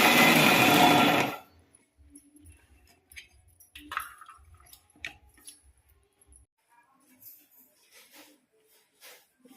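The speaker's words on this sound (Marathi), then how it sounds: "चालू बंद मिक्सर 2-3 वेळा करायचं." A mixer grinder pulses coconut, one loud whirring burst of about a second and a half that stops abruptly, followed by quiet clicks and light handling taps.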